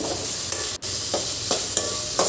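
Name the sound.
stirring and sautéing panipuri masala in a pan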